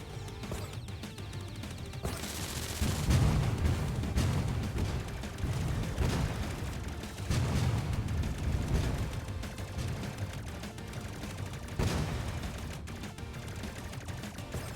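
Missile swarm explosions in the game Jet Lancer, a dense, continuous barrage of booms and crackling blasts layered over one another, loud and sustained with several heavier bursts.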